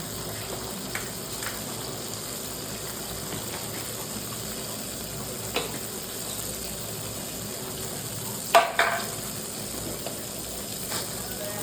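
Cumin, mustard seeds and ajwain crackle and hiss in hot oil for a tempering, a steady soft sizzle with a few sharp pops and one louder spatter burst near the end.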